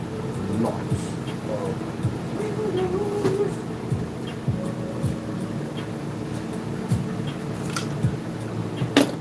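A train rumbles past close to a workshop with many windows, a steady low rolling drone lasting throughout with faint clanks and brief higher squeals over it, no talk.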